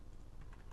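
Brief, quiet patter of keys on a computer keyboard while entering data into an Excel spreadsheet, a few soft taps with no voice over them.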